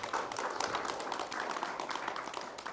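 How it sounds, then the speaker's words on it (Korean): Applause for pianist Lee Hee-ah, played with four fingers, at a talk concert: a crowd claps in a dense, even patter that stays moderately quiet and slightly distant, with no speech over it. "이희아에게 박수 한번 보내주면 어떻겠습니까?"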